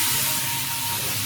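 Cooking wine splashed into a hot wok over fried radishes, scallion, ginger and garlic, giving a steady, loud broadband sizzle and hiss that holds evenly through the brief moment with no voices.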